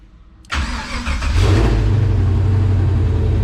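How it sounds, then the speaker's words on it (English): A 1970 Chevrolet C10 pickup truck engine starts via a push-button start switch: a sudden crank catches and settles into a loud, steady, deep idle rumble, close and alone. "If I hit the brakes, the start switch will start flashing, indicates we're ready to start, and I'll hit it."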